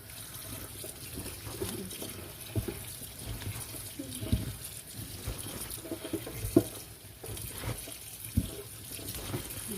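Tap water runs steadily into a container of vegetables being prepared for pickling, a continuous close splashing stream with small surges, heard alone.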